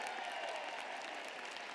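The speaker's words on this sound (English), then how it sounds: "Let's have a big round of applause for Miss Janice Vass." Convention audience at a State Farm event gives a short round of applause, a dense, steady patter of many hands heard at moderate distance.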